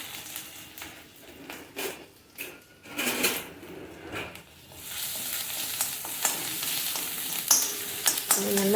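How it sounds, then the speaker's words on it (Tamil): Ginger and green chili paste frying in hot oil in a pan, a close sizzle that grows steadier and louder partway through, broken by a few spoon and pan clinks. "நல்ல சூடான சட்டியில் எண்ணெய் ஊற்றிக்கிட்டு இஞ்சியும் பச்சை மிளகாவும் போட்டு நல்லா வறுத்துக்கணுங்க."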